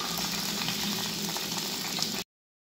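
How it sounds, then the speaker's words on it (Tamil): Chopped onions sizzle and crackle in hot oil, a continuous bright frying hiss that stops abruptly after about two seconds. "நறுக்கி வச்ச வெங்காயம் அப்படியே கொட்டிப்போம்."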